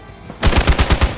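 Rapid burst of gunfire in the video game Midnight Suns, about seven loud punchy shots in quick succession after a short quiet lead-in, with no talking.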